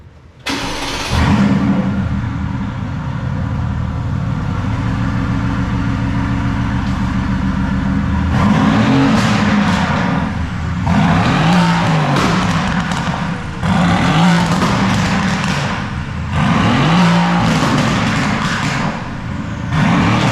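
A 2016 Mercedes-AMG GT S with its exhaust open fires up and settles into a loud, close idle, then blips through four or five sharp revs in quick succession.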